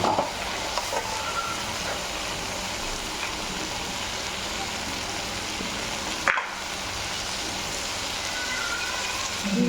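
Ground tomato going into a pan of frying onions for a green peas and potato gravy, a steady close sizzle with stirring scrapes throughout and a brief thump near the middle; no talking.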